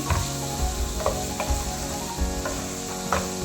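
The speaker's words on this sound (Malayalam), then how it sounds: "നന്നായിട്ട് മിക്സ് ചെയ്ത് കൊടുക്കാം" A spatula stirs and mixes leftover idiyappam, salted, in a hot pan, giving soft sizzling under repeated scraping knocks at an irregular rhythm, close and moderately loud with no talking.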